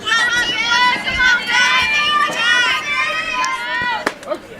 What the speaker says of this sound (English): Bit of mixed reactions from the crowd